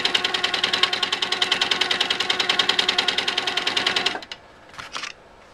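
A quilting sewing machine stitches a ribbon candy pattern in rapid, even bursts of needle strokes for about four seconds, then stops, followed by a brief faint mechanical whir.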